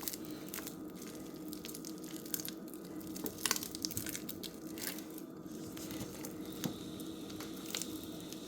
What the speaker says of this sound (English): Just massage it and work the butter.